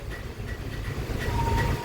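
Steady rumble of a train running on the railway track, heard from inside a carriage on a journey through Bombay, with a continuous low roar and faint rhythmic clatter throughout.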